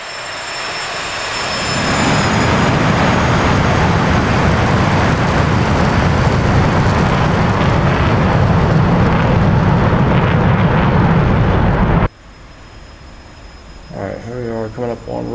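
An F-15EX jet in the DCS flight simulator throttling up for takeoff, a roaring engine that swells over two seconds and holds loud and steady, then cuts abruptly to a quieter hum with faint talk.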